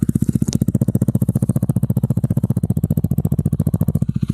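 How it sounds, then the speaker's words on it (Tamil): A TVS Apache RTR 160 4V BS6 motorcycle with a modified exhaust idles close by, a loud, even, rapid thumping exhaust pulse that holds steady throughout with a brief click near the beginning. "இப்போ நார்மல் எக்ஸாஸ்ட் நோட்டை கேளுங்க"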